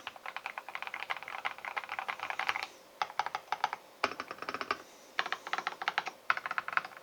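A purple Epomaker TH80 SE mechanical keyboard is typed on in fast bursts of crisp, close keystrokes. Brief pauses separate the runs, and no one speaks.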